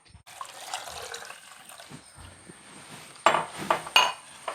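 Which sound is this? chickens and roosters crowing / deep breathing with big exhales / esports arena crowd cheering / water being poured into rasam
water being poured into rasam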